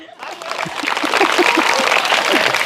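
Applause from schoolchildren in a government school classroom for a boy acting as teacher, clapping building up and holding steady for a couple of seconds, with voices mixed in.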